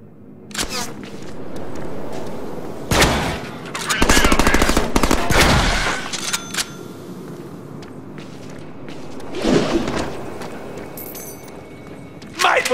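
Shotgun blasts and gunfire in the Deadpool video game, a few loud bursts with a sustained rapid volley in the middle, mixed with game voices and footsteps.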